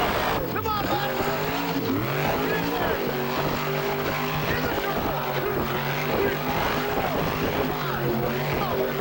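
A monster truck spinning donuts in an arena during a Monster Jam world record attempt, its engine roaring loud and unbroken with rising and falling revs, crowd noise and shouting voices mixed in.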